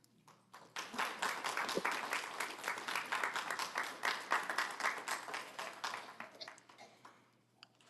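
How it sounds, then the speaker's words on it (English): Audience applause greets a woman as she returns to the podium to lead a message, loud dense clapping swelling within a second, holding steady for about six seconds, then tapering off near the end with no voices over it. "If you could give her a big round of applause"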